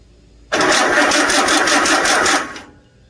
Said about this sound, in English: pull the switch out, hit the starter, and we should see light in here